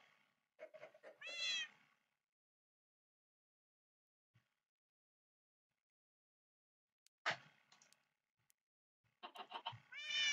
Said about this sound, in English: Now I have to wait for the cat to come to me on its own terms.